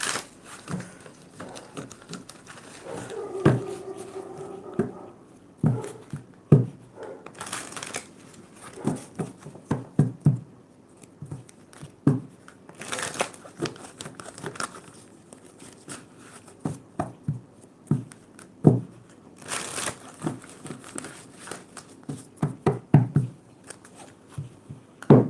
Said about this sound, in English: Let's do a nice little shuffle.